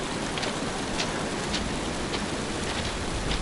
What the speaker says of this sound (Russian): Ручеек какой-то отсюда прям.